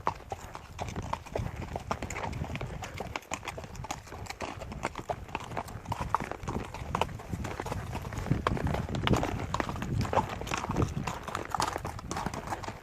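Horses' hooves clip-clopping along a hillside trail, a steady stream of many overlapping hoof strikes from a group of horses passing close by, with outdoor noise around them.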